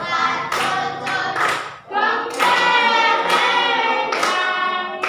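People clapping along to a children's song in an Indonesian classroom lesson, rhythmic hand claps under loud singing voices that dominate throughout.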